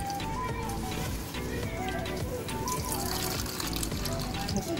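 Water trickles and dribbles as grated bottle gourd (lauki) is pressed by hand for kofta. Small splashes and drips continue in uneven bursts, with a voice talking in the background.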